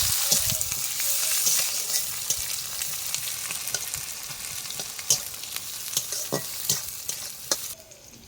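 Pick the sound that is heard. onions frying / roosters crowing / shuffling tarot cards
onions frying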